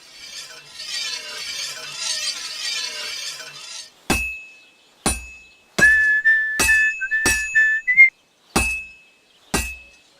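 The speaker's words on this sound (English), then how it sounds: "Now take the hammer and try hitting it a few times." A hammer strikes a heated sword on an anvil at a blacksmith's forge in Kingdom Come: Deliverance II: eight sharp, ringing metallic clangs at an uneven pace, loud and close, after a few seconds of quiet ambient hiss.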